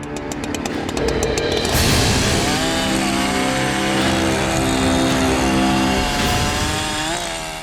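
A chainsaw roars loudly and close, sputtering at first, then revving high and holding a harsh buzzing whine before easing off.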